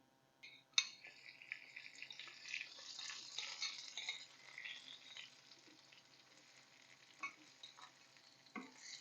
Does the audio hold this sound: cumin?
yes